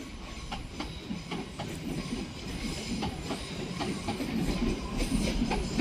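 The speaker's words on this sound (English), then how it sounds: "now arriving in is the 1430 northern service to Crewe" A Northern service to Crewe rolls into Manchester Piccadilly with rhythmic wheel clicks over rail joints and faint squeals, the rumble growing steadily as it nears.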